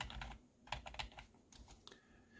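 A quiet run of clicky keystrokes comes from typing on a Redragon S101 wired gaming keyboard, in short, uneven bursts close by.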